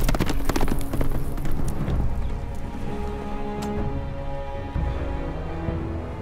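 A horse in a Game of Thrones video game clip-clops steadily at close range, hooves thudding in a continuous loud rhythm over a dense backdrop of game ambience.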